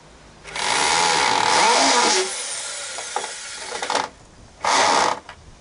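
A cordless drill driver sinks screws into a wooden cold frame for an allotment, giving two long steady whirring bursts and a shorter final one, with brief rattles between, close and loud.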